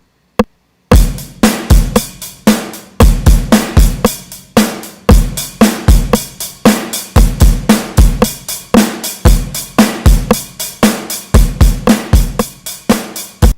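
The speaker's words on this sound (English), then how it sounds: "This is the drum session that we were trying out the other day" A recorded drum kit session plays back with the drummer audibly off time, kick, snare and cymbal hits landing in an uneven, stumbling groove for over twelve seconds, loud and close with no talking.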